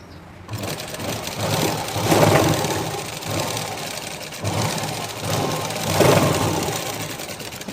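A sewing machine runs continuously while stitching a blouse, a steady mechanical whir that swells and eases in long waves, close and fairly loud with no talking.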